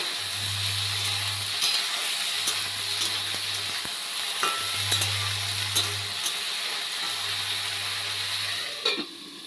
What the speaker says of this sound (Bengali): আবার একটু তুলে মা নেড়ে দিচ্ছে।